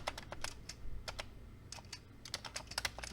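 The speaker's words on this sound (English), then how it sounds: "And you just toggle the pixels on and off using the space bar." A Commodore 64 computer keyboard is typed on with a series of sharp, close key clicks. The presses come at an irregular rhythm, sometimes in quick pairs, over a quiet background with no talking.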